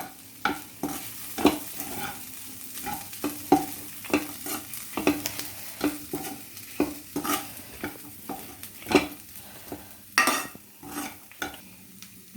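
Sweet corn upma being stirred continuously in a pan, with repeated close scraping strokes in an uneven rhythm over a faint sizzle.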